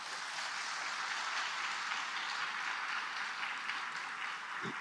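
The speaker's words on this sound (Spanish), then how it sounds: "Podemos aplaudir a nuestro Señor." A church congregation applauds during a sermon, an even, far-off wash of clapping that stays steady and fairly faint for several seconds.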